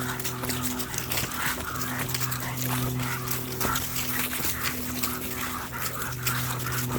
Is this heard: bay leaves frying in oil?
no